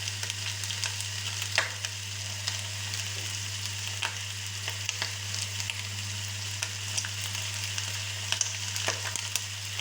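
Turkey pieces browning in a frying pan for a blanquette, a steady close sizzle with a low constant hum beneath and occasional small pops and scrapes, with no voices.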